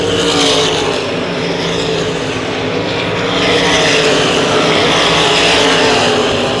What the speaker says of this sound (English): Chris Esch with a commanding lead as they head down the backstretch